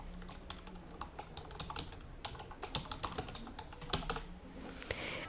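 Steady, close typing on a computer keyboard while a WordPress post title is entered, a quick patter of light key clicks over a soft background hiss, with no voice.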